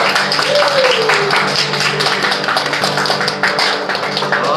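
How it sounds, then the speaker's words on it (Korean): A church congregation claps at the close of a Wednesday worship service, a dense sustained patter of many hands with a faint voice briefly underneath. "주님께 영광의 박수 올리고 오늘 예배 마치겠습니다"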